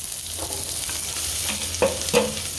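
Torn bay leaves fry on a low flame in a pan of oil for paneer curry, giving a continuous close sizzle with a few brief crackles and spatula scrapes near the end, no voices.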